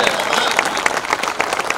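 An audience at an All India Mushaira poetry gathering in Bajpur applauds, a dense burst of clapping from the crowd, steady and loud throughout.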